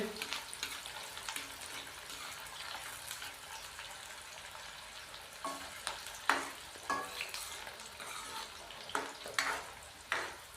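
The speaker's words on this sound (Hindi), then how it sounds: "प्याज को हम लाइट ब्राउन कर लेंगे।" Chopped onions frying in a pan for chicken kachnar give a low, steady sizzle broken by several sharp scraping stirs, which grow more frequent toward the end.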